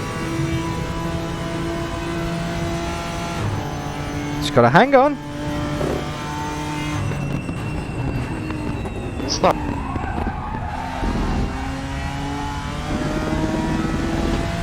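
A GT3 race car lapping Bathurst in RaceRoom Racing Experience drones loudly and steadily, its engine pitch climbing and dropping through gear changes, while someone speaks briefly over it.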